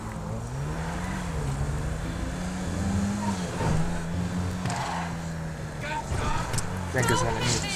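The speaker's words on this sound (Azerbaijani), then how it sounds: "Maşın off-roadda çox yaxşıdır." Engine of a VAZ-2107 car driving off-road in the GTA 5 video game, a steady low drone with shifting pitch running throughout beneath continuous talk.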